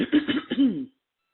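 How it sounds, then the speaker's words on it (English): A single throat clearing, close and fairly loud, a gruff rasping rumble lasting under a second, then silence. "let me clear my throat"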